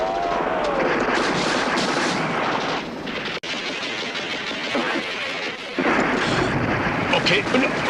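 Heavy gunfire and explosive blasts roar through a battle scene in the comedy film The Gods Must Be Crazy, where soldiers with armored vehicles and helicopters give chase. Dense, loud bursts come almost without a break, with one sharp crack standing out.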